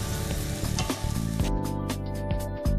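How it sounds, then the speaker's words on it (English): Lamb pieces for a tagine sizzle and fry steadily in oil in a hot pan, with intermittent scraping and stirring clatters on top, continuous and close, no voices. "once the meat is browned, we just transfer it to a pan and start with the next batch of meat"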